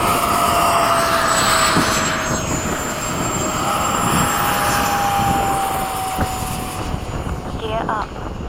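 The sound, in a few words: jet aircraft engine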